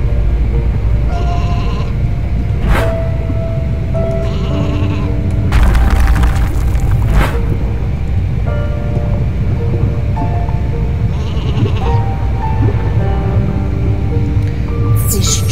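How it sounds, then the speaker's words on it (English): Repeated sheep bleats, some overlapping, in the video game Isle of Ewe, against a busy game soundscape with clattering effects and a brief burst of noise midway. "Sheep."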